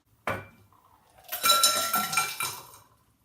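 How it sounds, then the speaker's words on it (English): Ice and cocktail contents tumble from a shaker into a tall Collins glass, giving a sharp clatter followed by a rattling run of clinks and cube knocks, close and clear with no voices. "empty the shaker's contents, including the ice, into a Collins glass."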